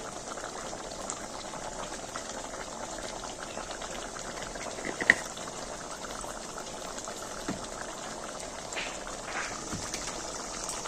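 Prawn and potato gravy bubbles steadily in a pan, a continuous soft boiling with small pops and a sharp bubble burst, close and alone.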